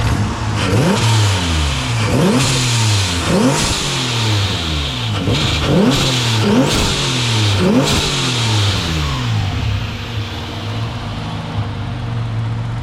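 A Hyundai car engine revs repeatedly in quick bursts, about seven rising roars close by, then settles back to a low idle.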